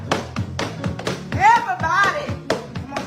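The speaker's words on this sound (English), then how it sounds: "Clap your hands." Church congregation clapping hands in a steady rhythm, sharp claps repeating about every half second, with a voice calling out over them.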